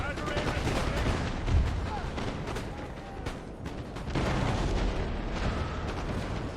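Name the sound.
infantry musket fire in Napoleon: Total War video game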